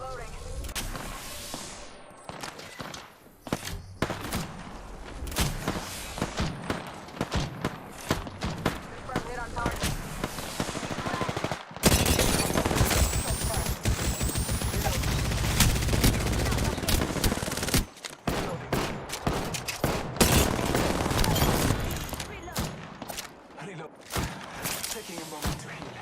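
Rapid automatic gunfire and single shots in the battle royale game Apex Legends, loud bursts and sustained volleys with brief pauses, mixed with explosions and impacts and occasional in-game voice lines.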